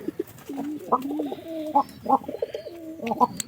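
Soft, repeated coos from a pigeon with a mouth sore, rolling in low, throaty phrases, close by, with a few faint chirps in the background and no talking.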